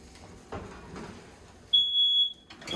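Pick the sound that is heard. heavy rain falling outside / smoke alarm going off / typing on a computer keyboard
smoke alarm going off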